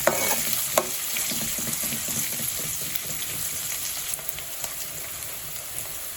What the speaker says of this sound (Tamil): வெங்காயம் போட்டு 2 தடவை கிண்டி விட்டுக்கோங்க